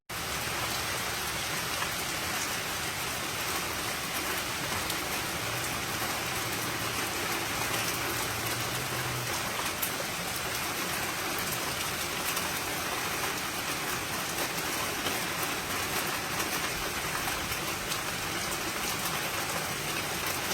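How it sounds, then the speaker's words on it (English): Steady rainstorm pouring down outdoors, a dense continuous hiss of drops on surfaces at a constant level throughout, with no voices and no pauses. "I'm so excited for this weather, including the storm that's going on right now."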